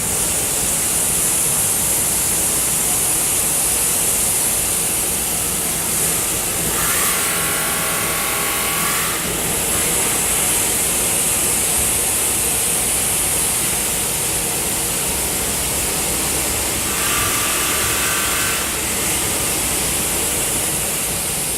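A CNC machine surfaces its own table with a cutter spinning at about 2,500 RPM and feeding at 600 inches a minute, giving a steady, loud broadband whir with two short stretches of brighter whine.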